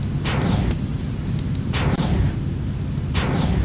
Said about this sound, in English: I just fired off 3 rockets